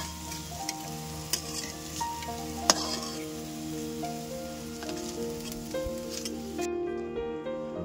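Pumpkin fritters deep-frying in hot oil, a steady close crackling sizzle with scattered sharp pops and a faint background tone throughout.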